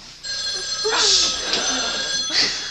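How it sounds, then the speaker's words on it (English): A telephone rings with a shrill, sustained electronic trill, close by, with a voice speaking over part of it. "This is the phone, actually."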